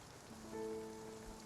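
Rain falls in the Spiritfarer video game as a steady, soft hiss, with faint sustained musical tones drifting over it for the full clip.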